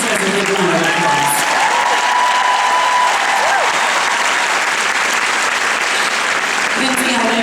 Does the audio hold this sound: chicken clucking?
no